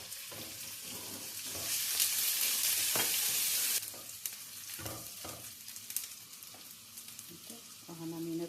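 Ginger frying in hot oil as the first step of a Bengali koroi rice dish: a steady close sizzle that swells loud for a couple of seconds, then settles into crackling with occasional stirring scrapes.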